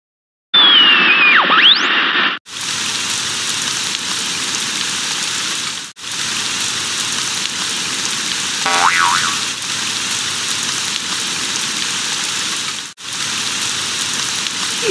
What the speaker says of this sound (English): Today is warm with light rain and strong winds.